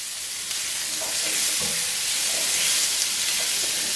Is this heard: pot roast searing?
yes